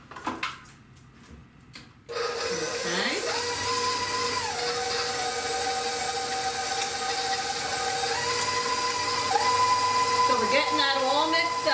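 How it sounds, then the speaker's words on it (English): An electric mixer whirring steadily through cheesecake batter with vanilla, a close sustained motor whine that shifts pitch as the load changes, starting after a short quiet pause, with someone talking over it. "In goes the vanilla, and we're going to mix that until it's smooth."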